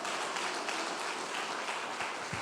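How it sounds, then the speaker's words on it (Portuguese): A church congregation claps together during a worship service, a steady crackle of many hands heard somewhat distantly and fairly quietly, with no voices on top. "Diga glória, dê as palmas ao Senhor."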